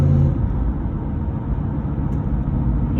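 A lifted pickup truck coasts without throttle, giving a low, steady rumble of engine and tyre noise from inside the cab, with no voices.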